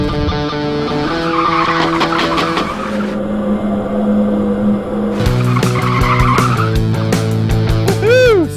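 A 2013 Ford Mustang with a solid rear axle, driven hard with traction control off, its engine revving loudly as tires squeal and skid through turns, close and continuous.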